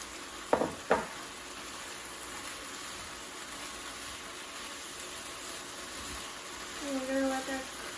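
Peppers go into a hot pan for Szechuan chicken: a couple of sharp clattering drops, then a soft, steady sizzle held at low volume, with a faint voice near the end.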